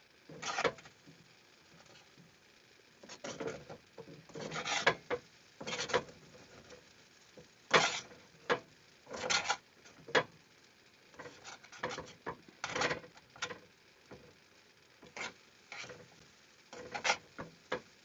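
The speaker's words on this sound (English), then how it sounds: "So we got some butter on the rice. Just gonna stir that together" Spoon stirring butter into cooked rice in a pan at an off-grid cooking setup, making irregular soft scraping and patting bursts, close and moderately quiet, with pauses between strokes and no talk.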